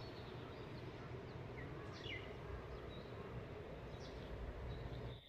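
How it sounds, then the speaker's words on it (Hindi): Birds chirp in the early morning in Kashmir, a few scattered high calls over a steady low background hum, faint and distant with no talking. "यहाँ चिड़ियों की चहचहाट सुनिए"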